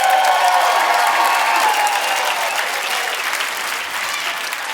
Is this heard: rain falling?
no